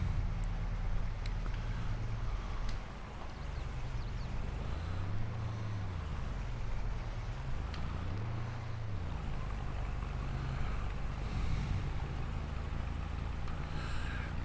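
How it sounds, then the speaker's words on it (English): Truck in Farming Simulator 22 hauling a heavy trailer with the smallest engine fitted, a steady low engine drone with two slow rising-and-falling labored pitch swells, no talking. "Wow, the truck is really struggling with that."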